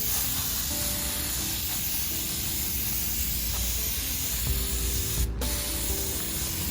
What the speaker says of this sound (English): So I'm about to spray it with the prep spray from Duplicolor.